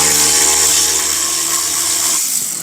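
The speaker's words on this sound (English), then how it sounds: "Now remove the 8mm bolt." Power tool driving out an 8mm bolt while a blower motor resistor is replaced on a Ford F-150, a loud steady whine held close for a few seconds before winding down at the end.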